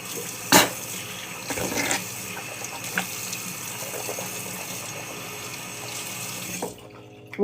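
Water runs steadily from a sink tap while someone washes their face, close and fairly loud, with a few splashes and clunks of hands in the basin before the flow stops near the end.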